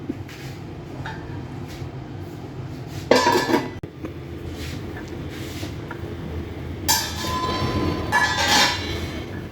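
A metal lid clatters onto a pot of cooking chicken masala, two bright clanking bursts a few seconds apart over a low simmering background, no talk.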